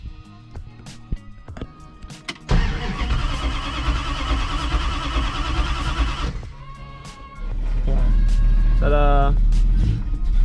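A 1972 Plymouth Satellite, an old classic Mopar, cranks and fires up, then its engine settles into a loud, deep, rumbling idle close by. A voice speaks briefly before and during the start.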